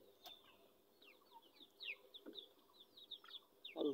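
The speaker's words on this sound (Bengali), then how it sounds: "কিছু ব্রয়লার মুরগি" Broiler chickens kept in a rooftop vegetable garden give soft, scattered clucks and chirpy peeps, faint and sparse against a quiet background, with one louder call near the end.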